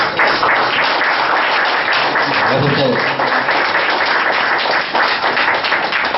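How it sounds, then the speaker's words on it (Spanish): A conference audience applauds steadily and loudly in a hall, dense clapping sustained throughout without a break. "un aplauso para ustedes"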